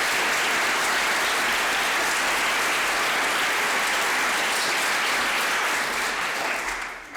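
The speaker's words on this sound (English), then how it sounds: "So if you could just give a round of applause." Mock trial audience at a Riverside County competition gives a sustained round of applause, dense and steady for about seven seconds before tapering off at the end.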